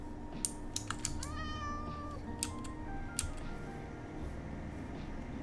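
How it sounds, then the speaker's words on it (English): Cat meowing in the video game Minecraft: several short, rising meows close up over a steady game background hum, alongside a few clicky keyboard taps. "Hello, is there a cat here?"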